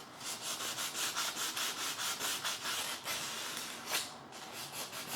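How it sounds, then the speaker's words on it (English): Rhythmic back-and-forth sanding on the bare wood of a budget guitar neck, close and steady, with about a dozen even rasping strokes and one harder stroke near the end, with no talking. "It doesn't matter if you sand it."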